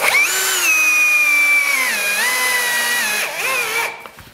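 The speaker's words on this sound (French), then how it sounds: "on visse cette fois avec des vis de 45 mm de longueur" Power screwdriver driving 45 mm screws into plasterboard on an acoustic insulation lining wall, a loud, close, sustained motor whine that dips and shifts in pitch as the screws seat, then winds down and stops.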